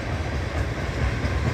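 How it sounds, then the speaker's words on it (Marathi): A freight train rolls past on the railway, a continuous low rumble of wagons with faint rhythmic rail clatter, close and steady throughout. "ही पहिली ट्रेन मालगाडी"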